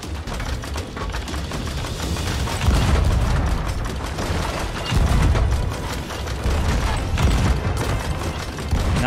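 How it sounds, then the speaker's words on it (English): Heavy booming cannon fire in the video game Sea of Thieves during a naval battle rolls continuously in a dense, loud barrage, with repeated deep blasts layered over a constant rumble. "Cannons are back."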